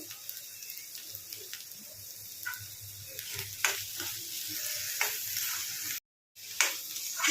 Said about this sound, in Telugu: మిర్చి ఉల్లిపాయలు అన్నీ బాగా మంచిగా ఫ్రై కావాలండి